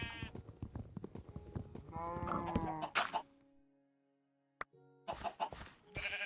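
Sheep bleating in Minecraft Skyblock, several short game-style bleats in a cluster near the end after a quiet gap, following busier game sounds and clicks.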